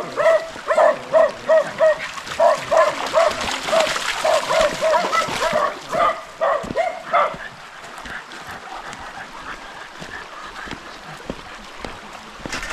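A farm dog freed from its pen on a rural province farm gives rapid, repeated barks close by, mixed with splashing water, before it settles into quieter background sounds.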